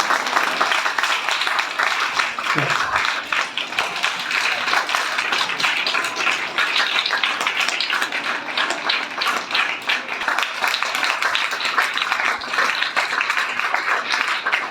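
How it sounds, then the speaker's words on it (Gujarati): An audience of schoolchildren and guests claps continuously at a primary school prize-giving ceremony, a dense sustained applause close by, steady throughout without pause. "હાલો મિત્રો તાળીઓ પાડો."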